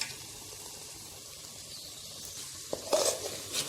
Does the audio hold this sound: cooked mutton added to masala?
yes